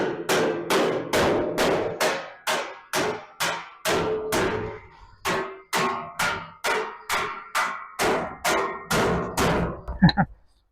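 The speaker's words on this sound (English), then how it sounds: "now that I've got my curve, I need to panel beat it a bit straighter" Steady hammer blows ring out on a curved steel running board for a 1933 Chevy being panel beaten by hand, about twenty sharp metallic knocks in a regular rhythm, close and loud, with a brief pause midway.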